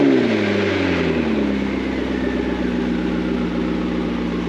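A McLaren 650S Spider engine, rebuilt after a crash, revs up loudly, then settles into a steady, throaty idle close by.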